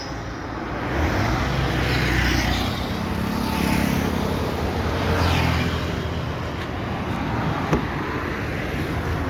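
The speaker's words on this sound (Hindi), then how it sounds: "जो गाड़ी है वो सीडान कार है जिस पे अभी हम ड्राइविंग क्लास दे रहे हैं।" A sedan runs during a driving lesson, giving a steady hum of engine and road noise with a brief faint tick near the end and no talking.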